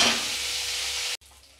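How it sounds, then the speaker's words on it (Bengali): Singi fish rubbed with salt and turmeric fries in hot oil with a steady, loud, close sizzling hiss that cuts off abruptly near the end. "এখন ওর মধ্যে দিয়ে দেবো আমি নুন হলুদ মাখানো এই শিঙি মাছটাকে দিয়ে দেবো।"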